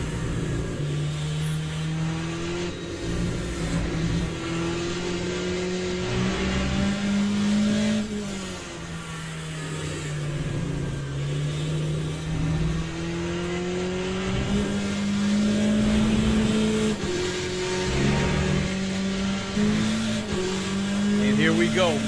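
Race car engines droning and shifting pitch in the Le Mans Ultimate racing game, with a Porsche among the cars; steady loud engine tone throughout, overlaid by game music and talking.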